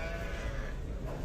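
A sheep bleats briefly and faintly at an open-air sheep bazaar in Sokuluk, with low livestock-market noise around it.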